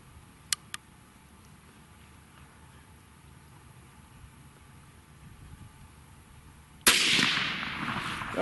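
A .450 Bushmaster rifle fires one loud, sharp shot at a brake rotor after a few seconds of quiet outdoor background, preceded by two faint clicks.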